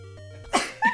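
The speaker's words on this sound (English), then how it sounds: "I have to sneeze." A single sharp sneeze bursts out after a short quiet intake, followed by a brief trailing voiced sound.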